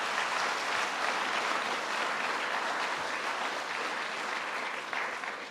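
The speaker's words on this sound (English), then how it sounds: "let's give our governor another round of applause" Sustained audience applause for New York Governor Cuomo at a Jamaica, Queens downtown revitalization event, a steady dense wash of clapping from a crowd that fades slightly at the end.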